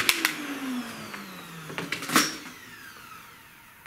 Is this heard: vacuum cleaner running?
yes